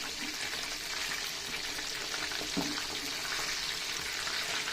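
Medium-sized prawns fry in oil in a pan for a chilli garlic prawn fry, giving a continuous, even hiss of sizzling at close range with no talk over it.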